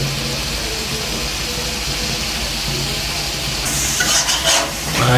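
Koi fish frying in a pan and being stirred, a loud steady hiss of hot oil with scraping and clattering strokes growing busier toward the end, close up, with no voices.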